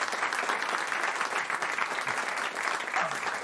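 A studio audience at a radio comedy panel show applauds in a dense, continuous burst at moderate volume, with a bark or two faintly mixed into the clapping.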